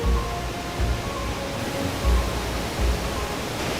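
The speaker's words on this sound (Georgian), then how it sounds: "ეს ისეთი ჩანჩქერია რომ აქ უნდა იჯდე და უნდა უყურო ერთი 10 წუთი მინიმუმ" A forest waterfall gives off a steady, full roar of rushing water, loud and constant for a few seconds, with a few soft low thuds under the wash and no voices.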